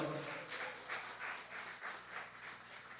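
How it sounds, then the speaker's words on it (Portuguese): Church congregation applauding after a sermon, a steady broadband wash of many hands clapping with gentle surges in loudness throughout, no voices over it. "isso é digno de um aplauso ao Senhor."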